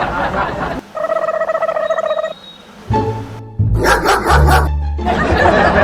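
Dog barking amid a rural comedy skit scene, a few sharp yelps and barks mixed with tonal squeals and background clatter, loud and close in short bursts.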